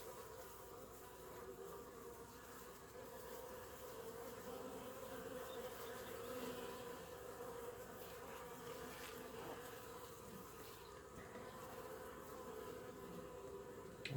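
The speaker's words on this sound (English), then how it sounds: "But there's still lots of bees out." Many honeybees hum in a dense, continuous buzz close by around an open hive, steady and unbroken throughout, with no talking.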